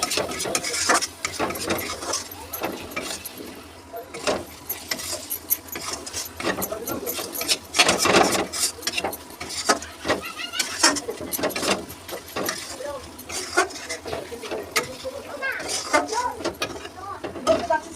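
Chicken masala with chili powder being stirred and fried down in a pan, a steady scraping, rasping texture running continuously and fairly close, with no voices over it.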